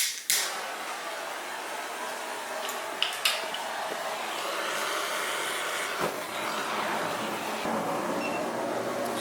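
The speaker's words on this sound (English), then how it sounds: "Release the pressure." A sealed pressure cooker holding Hawaiian laulau vents pressure with a sharp initial burst, then a steady, close hiss broken by a few clicks and knocks.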